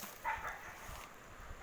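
A pet dog barks a few times off in the distance, short yips heard faintly over steady outdoor background noise, with no talking.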